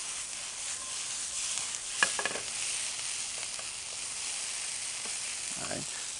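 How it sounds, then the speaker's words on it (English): Seasoning paste stirred and cooking in a pan for a stuffed sirloin tip roast, giving a steady soft sizzle with a few brief scraping stirs, fairly quiet throughout. "I'm going to stir this in for a little bit, let this cook together"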